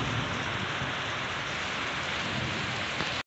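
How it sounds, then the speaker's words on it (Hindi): Heavy, unbroken downpour roars steadily at close range, a dense even wash of rain beating on surfaces with no pauses, running for the whole span and stopping abruptly at the end. "आज कितना भयंकर बारिश पड़ रही है"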